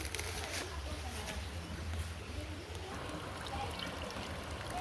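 Spring water pushed out by a pump at a car wash pours and streams continuously, a steady, fairly faint rushing flow with no distinct breaks, heard from close by outdoors.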